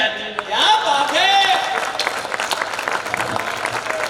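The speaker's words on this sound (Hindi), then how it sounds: "इतनी अच्छी कविता पर कमजोर है तालियां" Applause rises from the audience at a Hindi poetry recital, a kavi sammelan in Vidisha, a dense burst of clapping that swells and thins over a few seconds while voices carry on over it.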